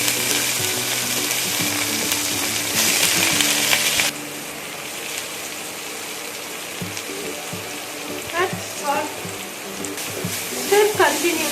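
Cut brinjal frying in a curry base in a pan, with a steady loud sizzle, a brief louder burst early on, then softer crackling and occasional stirring scrapes throughout.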